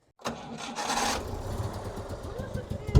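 Someone works the kick or pull starter of a motorcycle engine, a rough rasping crank that rises sharply and then settles into sputtering, with brief voices nearby.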